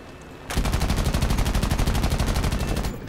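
Front machine gun of a B-18A bomber in War Thunder: a loud, rapid, evenly paced burst of gunfire starting abruptly and hammering steadily for over two seconds before cutting off.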